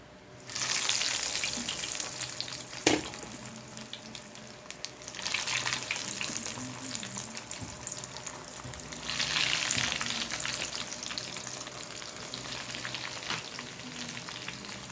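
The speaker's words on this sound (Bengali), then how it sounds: "আমি মিডিয়াম আঁচে এটাকে ভাজবো" Chicken and potato chops fry in hot oil over medium heat, a bubbling sizzle that swells and eases in waves, with one sharp knock early on and no voices.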